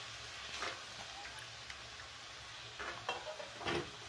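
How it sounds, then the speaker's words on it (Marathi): Potato and pea curry sautéing in a pan makes a soft, low sizzle with a few scraping stirs that rise toward the end, heard alone and fairly faint. "त्याला आपण परतून घेऊया थोडंसं"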